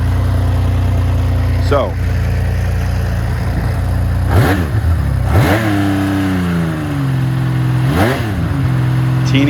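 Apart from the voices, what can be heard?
1980 Honda CBX motorcycle engine idling and revving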